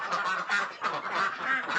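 Several ducks quack repeatedly in loud, nasal bursts, a chattering flock close by with no talking.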